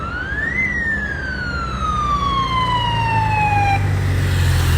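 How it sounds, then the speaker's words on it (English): A car passes close by with its siren wailing. The siren pitch rises, then slides steadily down as the car moves away, over loud, constant street and traffic noise. "So here comes another car."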